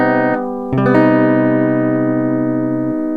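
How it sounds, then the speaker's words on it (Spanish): A single mysterious-sounding seventh chord is held and sustained for about three seconds, with a brief re-attack near the start, ringing steadily and close up with no voices. "A que suena un montón a James Bond o algo así"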